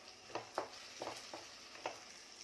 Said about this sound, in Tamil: இப்போ நம்ம இஞ்சி பூண்டு பேஸ்ட்டு சேர்த்துக்கலாம். இது ஒரு 2 நிமிஷம் நல்லா வதக்கி விட்டுக்குங்க.